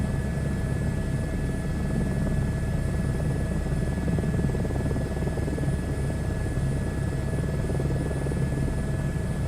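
Helicopter flying in a video game flight simulator, a steady, loud rotor and turbine drone that holds evenly throughout with no pauses.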